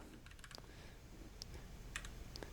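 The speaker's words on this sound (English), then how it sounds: "All right, various effects here as we hit the keys." Keys clack on a Keychron Q6 mechanical keyboard, a loose scattering of crisp individual keystrokes with short gaps between them, close and fairly quiet, with no talking.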